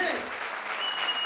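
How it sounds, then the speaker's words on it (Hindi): Audience applause for bishops at a Minority Day programme, a dense burst of clapping from a crowd, steady and loud throughout. "इनके लिए 30 सेकंड तक लगातार सबके लिए तालियां बजनी चाहिए"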